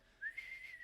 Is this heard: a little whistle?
yes